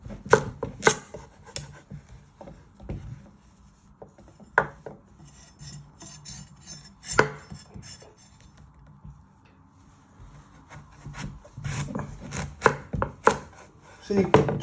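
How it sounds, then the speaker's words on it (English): A knife chops the ends off a butternut squash on a board: irregular sharp thuds and scraping rasps, sparse in the middle and clustered in quicker bursts toward the end, with no talking. "You first want to chop your ends up."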